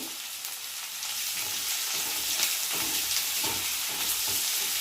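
Two slit green chillies fry in hot oil in a pan, giving a loud, continuous sizzle and hiss with soft stirring scrapes underneath, close and unbroken throughout.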